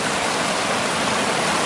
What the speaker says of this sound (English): now I have my own real waterfall